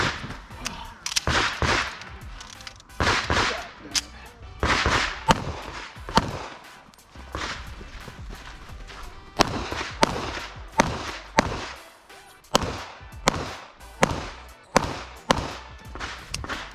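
Gunshots at a shooting match stage, a long sequence of sharp, loud pistol-style reports in quick pairs and triplets with short pauses between strings, heard outdoors with no talk.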